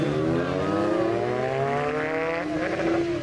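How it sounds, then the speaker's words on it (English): A drag racing motorcycle engine drones at high, steady revs, its pitch creeping upward and then holding, with a steady, loud buzz from close by and no clear talk. "On the rev limiter."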